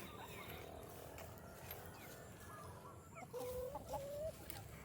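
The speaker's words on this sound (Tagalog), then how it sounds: "Yan po yung mga manok natin." Chickens cluck and call softly amid rustling farm ambience, with a clearer rising fowl call near the end.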